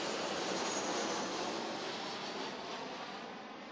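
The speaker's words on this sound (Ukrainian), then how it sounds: "Що 90 секунд гул літака розриває небо." A jet airliner passes low overhead near Heathrow Airport above a densely populated residential area, a broad steady roar that slowly fades toward the end.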